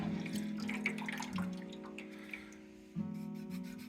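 Water draining out of an ultrasonic cleaner after a batch of car parts, a steady running trickle with faint rubbing and handling noises over it and a brief knock near the end.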